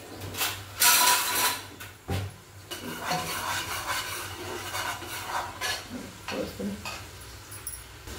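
Ground masala paste for a country chicken sambar is fried in oil and stirred, a spoon scraping and rasping against the pan in irregular strokes with soft sizzling underneath.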